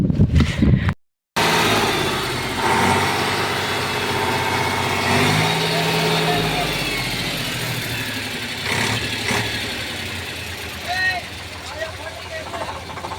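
A diesel tractor engine runs steadily at idle, a continuous mid-to-low rumble after a brief cut at the start, with people talking over it throughout.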